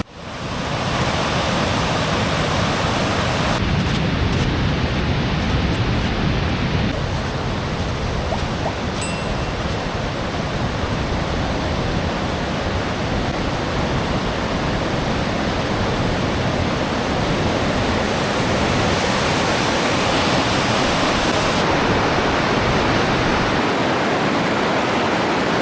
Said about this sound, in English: The Wilson Falls are amazing today.